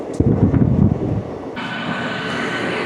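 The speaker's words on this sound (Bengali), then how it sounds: "তো ফাইনালি আমাদের ট্রেন ছেড়ে দিয়েছে" An AC train pulls out of Nabadwip station, its low rumble heavy at first, then settling into a steady rolling hum with a brighter hiss of wind and track noise building after a sharp change partway through.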